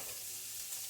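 Bacon pieces sizzle loudly and steadily in a frying pan, a continuous crackling hiss with no voices over it.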